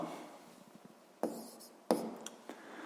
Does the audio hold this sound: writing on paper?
yes